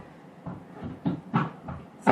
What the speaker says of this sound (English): My apologies if you hear banging and hammering in the background.